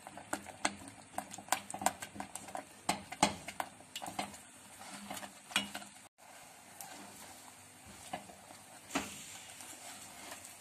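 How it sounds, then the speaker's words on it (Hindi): A spoon scrapes and knocks steadily against a pot while stirring a thickening homemade tukri faluda mixture, sharp clicks coming in quick irregular bursts, then quieter bubbling. "ये ध्यान रहे कि हमने चम्मच मुसलसल चलाना है।"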